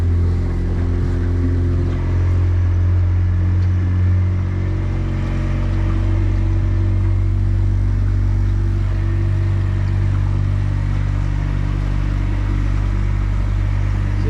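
A 2025 Yamaha F300 fuel-injected outboard on a Hewescraft 240 Ocean Pro idles steadily nearby, a continuous low engine drone with no voices over it.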